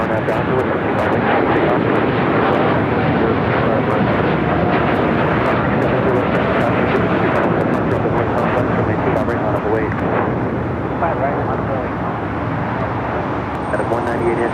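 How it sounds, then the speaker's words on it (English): A United Boeing 787 Dreamliner rolls down runway 25 right at Los Angeles airport on takeoff, a loud, steady jet roar filling the whole stretch, with a voice talking over it. "our next United Dreamliner heading to Shanghai, rolling down 25 right"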